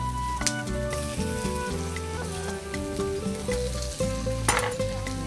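Chicken being stir-fried with onions and chilies in a hot pan for green-chili teppan noodles, a loud, steady sizzle with scraping and stirring clatter throughout.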